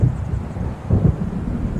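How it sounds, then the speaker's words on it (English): Low rumbling thunder of an approaching storm in the video game Alan Wake, a continuous deep roll swelling twice with a steady windy wash underneath. "It seems there's a storm coming."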